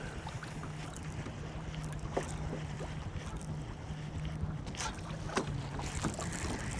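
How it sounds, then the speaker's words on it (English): Wind pushes waves against a bass fishing boat on Santee Cooper, a steady rushing wash with gusty microphone buffeting and occasional small slaps and knocks against the hull. "How the wind is pushing the waves."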